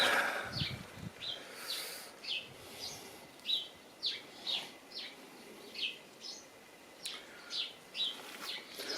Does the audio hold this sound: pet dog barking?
no